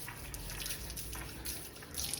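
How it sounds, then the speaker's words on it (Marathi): Water splashed in small dashes over a basket being washed in a village home, a steady close wet patter running throughout with no talking. "पूर्ण टोकरावर थोडं थोडं पाणी मारायचं मस्तपैकी"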